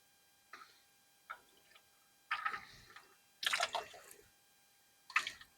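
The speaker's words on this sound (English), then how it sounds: "A bunch more oil dripping out from the engine" Irregular drips and splats of engine oil falling from a Nissan Rogue into a pan, a few spaced drops building to heavier bursts, close by in an otherwise quiet space.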